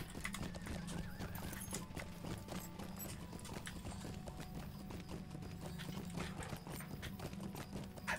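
Steady rapid clip-clop of horse hooves trotting in the Lord of the Rings Online video game, with a whinny, continuous and close throughout.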